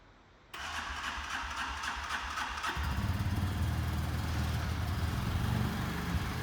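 A motor scooter engine is started after a brief quiet moment, catching at once and then settling into a louder, steady running drone that carries on to the end, close by and with no talking.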